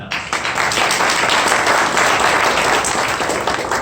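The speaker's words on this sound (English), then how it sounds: "I gotta give you a round of applause for that." An audience at an 18th-century speaker event breaks into applause, a dense, loud burst of many hands clapping close by, steady for a few seconds.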